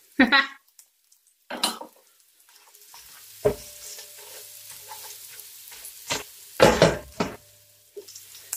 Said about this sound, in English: So we're going to saute this till our garlic is brown, really nice and golden brown.